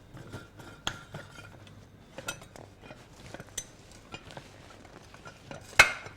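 A pressure cooker lid being fitted and tightened shut, giving scattered light metallic clinks and scrapes that end in one sharp, loud clank.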